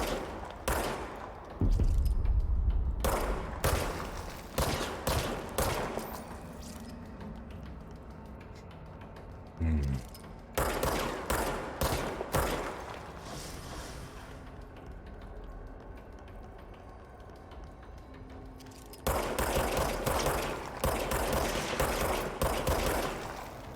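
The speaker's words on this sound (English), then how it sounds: "Gonna take a minute to get used to the shooting again." Rapid video-game gunfire in repeated bursts of shots, loud and close, separated by quieter gaps with faint mechanical clicks.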